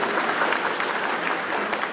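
Audience applause at a book days event, a steady dense wash of many hands clapping for about two seconds, close and continuous with no talk over it.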